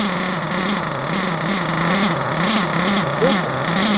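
A small nitro engine in a Kyosho Inferno Neo 3 RC car being run in runs steadily at a high-pitched whine, its pitch wavering slightly up and down, loud and close with no talking.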